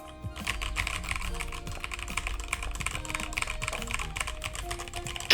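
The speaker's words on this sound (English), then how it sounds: "Keyboard ASMR." Fingers type steadily on a computer keyboard, a dense run of close, crisp key clicks over a faint background hum.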